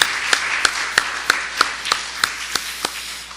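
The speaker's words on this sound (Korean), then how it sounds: "그 하나님 앞에 우리 감사의 박수를 한번 올려드리십시오." A church congregation clapping together in thanks during a sermon, sounding as a steady, evenly spaced run of about ten sharp claps over a broad roomy wash of noise.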